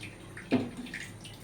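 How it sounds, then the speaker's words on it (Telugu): A brief splash of water being poured into a pot of rice for biryani, a quick gush followed by soft trickling in a quiet room. "2 లోటాలు వాటర్ మనం ఇందులో వేసుకోవాలి"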